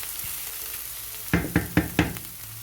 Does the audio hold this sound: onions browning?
yes